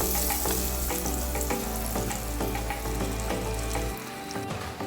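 Butter sizzles loudly in a hot pan, a dense crackling hiss with frequent pops that holds steady before easing slightly near the end, close and free of talk.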